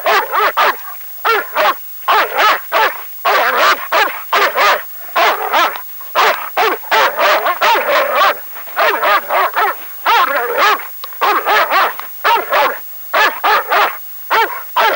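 A dog barks and yips in rapid, repeated bursts, close and loud, with short gaps between the barks and a few whimpers mixed in.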